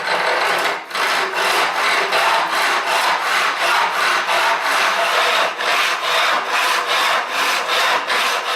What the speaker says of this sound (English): A few forward shortcuts gives me a good curve there, and I'm ready to start sawing properly.